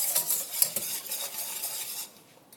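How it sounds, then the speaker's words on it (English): Spoon stirring a tiramisu mixture in a bowl, a steady run of scraping, clinking strokes against the bowl for about two seconds, close and fairly quiet, then stopping and leaving near silence. "I'm going to stop stirring it for a little bit and let it stand there"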